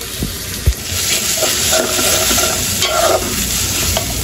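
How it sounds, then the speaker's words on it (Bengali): Ginger garlic paste sizzles and fries in hot oil with broiler chicken, a continuous loud hiss with stirring scrapes and a sharp knock early on. "এখন দিয়ে দিতেছি আদা রসুন বাটা, এই বাটাটাও কিন্তু ভাজা করে নিব এখন আমি।"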